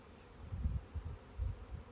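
Low, soft buzzing of honeybees hovering close by around a water feeder, rising and falling in short pulses with no voices.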